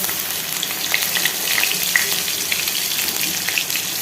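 Black cumin seeds fry in hot oil with a steady, close hiss and scattered small pops and crackles, continuing without pause and with no voices.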